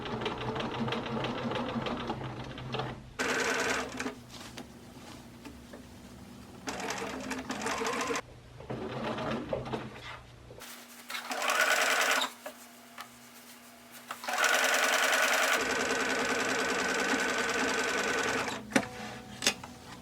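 A home sewing machine runs in bursts while stitching the side seams of a Butterick B6318 retro midi dress, with several runs of steady whirring separated by short pauses.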